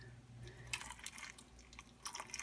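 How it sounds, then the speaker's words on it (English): Water poured onto freeze-dried ground beef, a soft trickle with faint splashes and drips against the dry meat, quiet and close with no voices over it. "All I'm going to do is pour some water on it."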